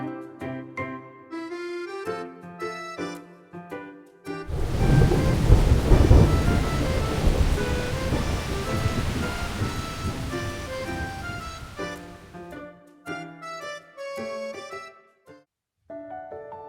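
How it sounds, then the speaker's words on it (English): Thunder and rain in the story scene of a romance video game, rumbling in loud and dense for about eight seconds and then fading out, with gentle melodic game music playing before and after it. "That sounded like thunder."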